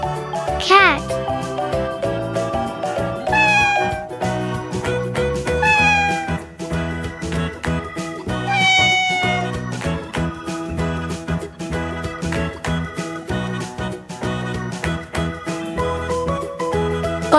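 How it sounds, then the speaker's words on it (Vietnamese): A cat meows several times over a bright, steady music bed, with a voice also heard, as in a children's lesson on farm animals and their sounds. "cat,"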